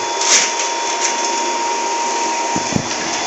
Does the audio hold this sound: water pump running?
yes